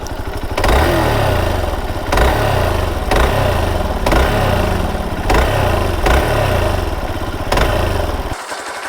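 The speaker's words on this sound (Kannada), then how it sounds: "ಗಾಡಿ ನಾಯ್ಸ್ ಕೇಳ್ರಿ ಹೆಂಗೆ ಹೊಂಟದ ಅಂತೇಳಿ" A Hero Xpulse motorcycle engine runs with an abnormal noise: a loud, steady chug broken by rhythmic pulses about once a second, close to the microphone, with no talking.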